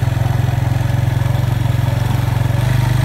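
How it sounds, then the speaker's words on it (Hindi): A motorcycle engine thuds with a fast, even pulsing beat, loud and close, running steadily throughout. "बाइक का साउंड आ रहा होगा बहुत ज़्यादा"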